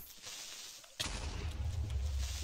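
A sudden loud Minecraft explosion bursts in after a quieter stretch, followed by a rumbling, crackling low-end decay in the game audio.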